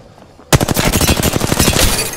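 Rapid automatic gunfire from a video game bursts in abruptly and keeps going as a loud, dense stream of shots to the end, with no talking.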